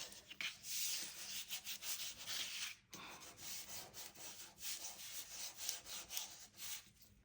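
Double-sided adhesive is pressed down onto a paper-bag junk journal page with soft, faint rubbing strokes, one brief pause between passes and no talking.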